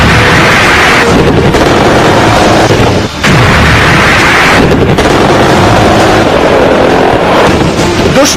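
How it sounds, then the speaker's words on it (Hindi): An Indian Bhishma battle tank roars and fires, a very loud, dense rumble of engine and blasts with heavy booming bursts near the start and middle, no voices. "दुश्मन पर ऐसे ही गरजता है भीष्म टैंक"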